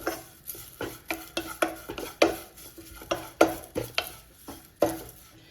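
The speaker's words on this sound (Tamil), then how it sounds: "ஸோ மீடியம் ஃப்ளேம்லேயே வச்சு நல்லா மிக்ஸ் பண்ணி கொடுத்துக்கிட்டே இருங்க." Garlic stirred and roasted in a dry, oil-free pan over a medium flame for prawn masala, a spoon scraping in a steady series of separate, fairly loud strokes with no talking.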